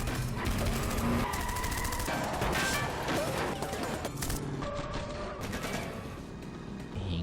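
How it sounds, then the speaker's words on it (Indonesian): Loud, dense action soundtrack from a film car chase, with bursts of gunfire, crashes and impacts piling up continuously, engines and chaos mixed in with no clear speech. "Aksi kejar-kejaran dan tembak-tembakan pun tak terhindarkan."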